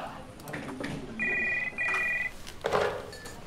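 An office telephone rings twice in quick electronic bursts, with faint background voices and room sounds around it.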